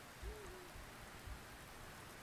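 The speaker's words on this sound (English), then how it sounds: "It's raining now?" Rain falls in the indie game Secret Dream, a faint, steady hiss of soft patter with an owl-like hoot rising briefly near the start.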